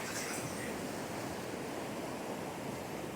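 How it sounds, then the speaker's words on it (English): Steady ocean surf and wind on a Pacific coast, heard as a continuous broadband roar with no distinct breaks, fairly loud and enveloping, with no talk. "the wind started blowing, the waves picked up a little more"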